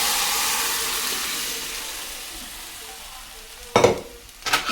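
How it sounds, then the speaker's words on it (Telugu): Boiled country chicken with water tipped into a pan of softened frying onions, a steady sizzle fading slightly before two loud bursts of splashing hiss near the end. "ఇప్పుడు ఈ చికెన్ కూడా బాయిల్ చేసిన చికెన్ కూడా వేసేద్దాం."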